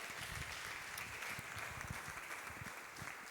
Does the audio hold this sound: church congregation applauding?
yes